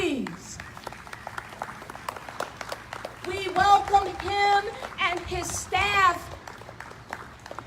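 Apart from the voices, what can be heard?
applause welcoming the mayor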